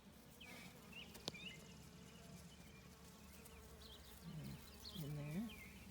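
Bees buzzing around a thriving milkweed patch in a June garden, a soft steady outdoor drone with a few louder, nearer passes toward the end.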